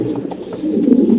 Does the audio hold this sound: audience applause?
no